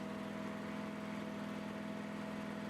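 A Toro STX stump grinder engine runs at a steady, even drone with a constant tone, a faint mechanical hum that holds unchanged throughout with no talking.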